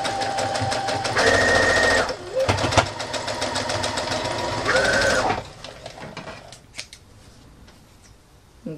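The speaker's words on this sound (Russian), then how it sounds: "Я по прямой прострочу." A sewing machine stitches a straight seam on a stuffed toy's body pieces, its fast, steady mechanical whir running loud and close for about five seconds, briefly pausing midway, then stopping and leaving quieter handling noises.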